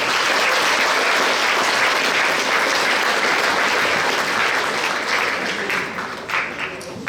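An audience at a regional science fair finale claps loudly and continuously for a student project, the applause thinning out toward the end.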